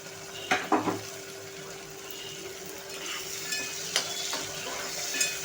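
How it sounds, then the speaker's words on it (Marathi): Chopped tomato sautéing with onion in a pan for a Maharashtrian matki rassa bhaji, a steady soft sizzle with a few faint clinks and scrapes of a spoon against the pan. "टोमॅटो जो आपला आपण परतून घेतोय"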